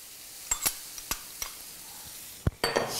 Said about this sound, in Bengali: কোপ্তাগুলো দিয়ে একটু নেড়ে চেড়ে একেবারে মশলাগুলো দিয়ে কোট করে নিয়ে